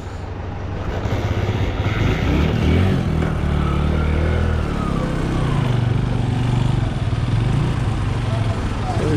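A motorcycle kick-started on a cold morning fires up and settles into a loud, close, steady engine drone, with a voice speaking over it.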